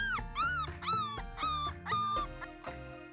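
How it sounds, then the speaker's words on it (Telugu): A small brown puppy wearing a blue collar gives a quick series of about six high, whiny yips and barks, close and clear with no talking. "చిన్న కుక్క ముందుకొచ్చి ముద్దుగా మొరిగింది"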